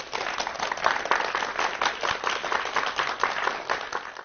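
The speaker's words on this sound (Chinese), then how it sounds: "那让我们再一次以热烈的掌声感谢" An audience at a Tsinghua University lecture-series talk gives a steady round of applause: dense, continuous clapping at even strength for about four seconds.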